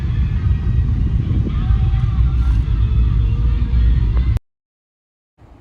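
A car carrying pots and supplies, headed to a district hospital, gives a steady, loud low rumble of interior road noise that ends abruptly, followed by near silence.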